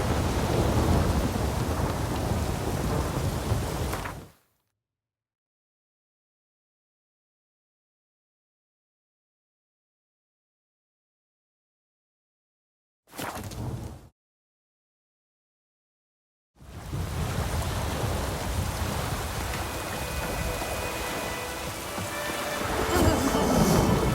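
Thunderstorm with heavy rain in The Witcher 3, a dense roar of rain and rumble that cuts out into long silence, returns briefly, then resumes and swells toward the end.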